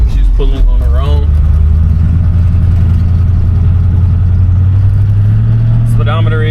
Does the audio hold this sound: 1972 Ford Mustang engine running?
yes